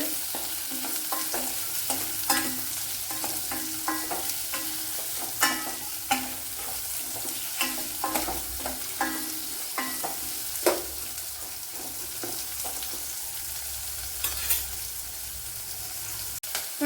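Sliced onion and curry leaves sizzle steadily in hot oil in a pan, Kerala-style, with a spoon scraping and clacking against the pan in irregular strokes throughout.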